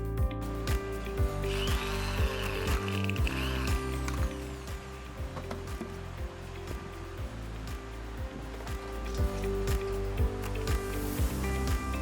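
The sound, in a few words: power screwdriver fitting screws on a tap cap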